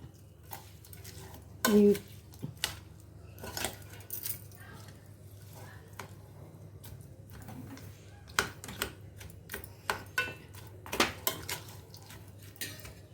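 Food being mixed by hand in a bowl, with repeated clinks and scrapes of utensils against the dish in irregular bursts, close and moderately loud, with a voice speaking between the sounds.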